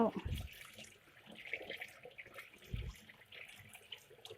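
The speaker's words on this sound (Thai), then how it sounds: "ล้างน้ำให้สะอาด เปิดน้ำใส่ปากมันเนี่ย ล้างเอา" Tap water runs into a sink while a whole fish is rinsed clean, water flushed into its mouth, making an uneven splashing gush with a couple of low thumps and a voice speaking faintly beneath.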